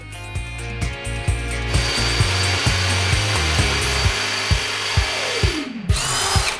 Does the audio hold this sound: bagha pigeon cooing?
no